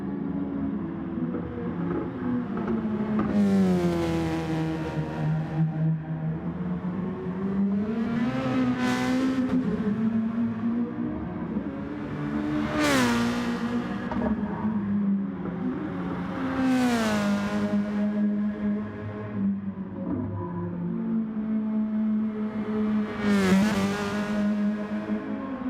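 Race cars lap a circuit during a qualifying session at a CMSC event, engines droning steadily with repeated rising revs and gear shifts as cars pass close by, a continuous loud motorsport roar with no talk.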